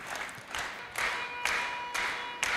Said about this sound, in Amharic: አጨብጭቡለት ለወንድሟ።